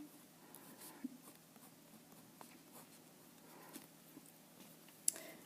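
Faint scratching of a pen or pencil writing out a compound interest formula by hand, soft irregular strokes close by in a quiet room with no talking.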